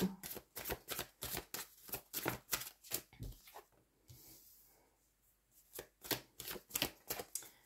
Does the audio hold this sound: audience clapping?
no